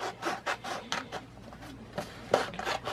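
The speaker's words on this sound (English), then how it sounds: "So now I'm going to go ahead and trim off where I have about a 1-inch" Scrapbook paper being trimmed for a mini album cover, a series of short rasping, rubbing strokes in uneven rhythm, close and fairly soft.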